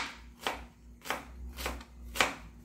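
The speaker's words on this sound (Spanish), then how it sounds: "Bien picadita la cebolla." Onion is finely chopped on a board for Neapolitan sauce, four crisp knife strokes landing at an even, unhurried pace, close and fairly quiet.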